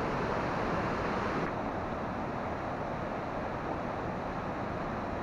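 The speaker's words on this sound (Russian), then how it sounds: "Вот он, водопад." The Beltyr-Tuyuk waterfall, about 29 metres high, in the Chemal district of the Altai Republic, gives a dense, steady roar of falling water. The wash is loud and unbroken, with no voices over it.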